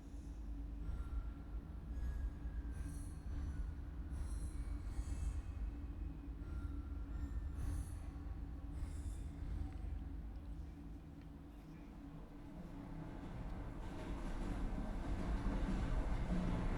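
A train ride in the video game Chernobylite gives a continuous heavy rumble of wheels and carriages with occasional metallic squeals, steady throughout and with no talking.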